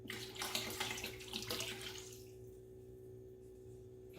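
Cream soda mixture pours out of its container into a home-brewing bucket, a full gushing splash for about two seconds that cuts off and leaves only a faint hum.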